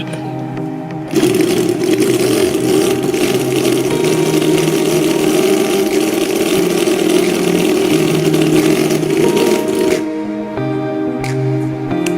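A homemade model engine runs steadily and loudly for about nine seconds with a rough, uneven drone, then cuts back to a quieter idle.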